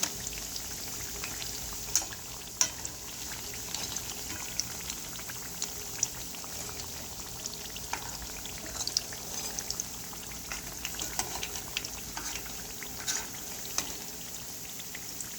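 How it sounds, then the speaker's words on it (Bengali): Soft, bubbling sizzle of Bangladeshi lentil and onion fritters (piyaju) frying in hot oil, continuous and fairly quiet, with scattered pops and crackles. "এগুলো আর একটু ভাজা হবে, একটু ভাজা হলে উঠিয়ে ফেলব"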